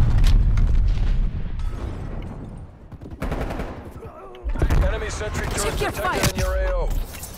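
Gunfire and explosions from the video game Call of Duty Cold War: loud bursts of shooting and booms scattered through the clip, with a player talking over the action.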